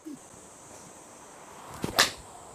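A Srixon ZXiR 4-iron striking a golf ball outdoors, a single sharp crisp click near the end, fairly close and clear over faint background noise.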